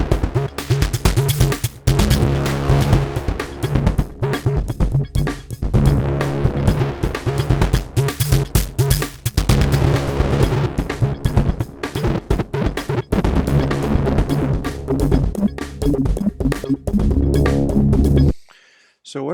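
A PowerSag audio effect working on a dense, distorted tone with rhythmic attacks, loud and continuous for about eighteen seconds before cutting off abruptly.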